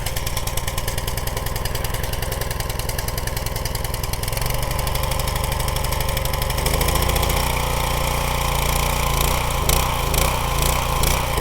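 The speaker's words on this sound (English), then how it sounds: "Give it a couple short pulls to get your gasoline primed into your carb, and then yank it." A pull-started gasoline engine on a pressure or foam washer runs steadily and loudly throughout, its idle shifting in pitch a few times as the throttle settles, with no talk.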